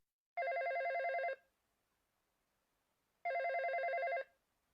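A telephone rings in two long electronic bursts separated by a couple of seconds of quiet, loud and close, with no voices.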